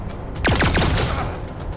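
A burst of gunfire in the video game Wasteland 3, a sharp loud shot followed by descending ricochet-like trailing tones over a steady background hum.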